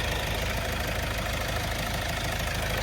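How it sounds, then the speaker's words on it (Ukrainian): A 1.7 CRDI diesel engine in a manual Kia Sportage idles steadily, giving a dense, even mechanical drone with a low rumble that holds constant throughout, with no voices over it. "Мотор працює чітко, рівненько, ніяких звуків патронів нічого немає."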